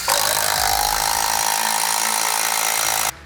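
An impact wrench runs in one continuous loud, harsh burst on the secondary clutch bolt of a Segway Villain SX10 side-by-side, holding steady for about three seconds before cutting off abruptly.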